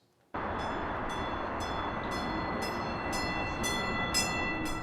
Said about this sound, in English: It is a sound light rail riders hear on the platform once every half hour